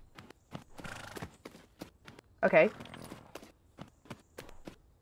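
Horse hooves walking at a steady pace in the Tales of Rein Ravine equestrian video game, a regular run of soft, evenly spaced clops under game music and talk.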